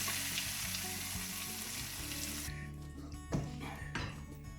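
Chicken and chickpea curry with paprika frying in a pan while being stirred, a steady close sizzle with a few clinks of the spoon against the pan, no voices.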